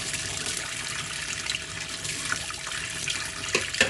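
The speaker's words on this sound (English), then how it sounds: "So you see all the water coming out." Water running out of a pot while pap (maize porridge) is being prepared, a steady broadband splashing and trickling like a tap into a sink, continuous and fairly close, with no talk.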